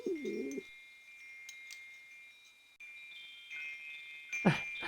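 A soft, cooing bird call plays as a sound effect in the Dragon Lore video game, loud at the very start and returning briefly near the end, over a steady tonal game ambience.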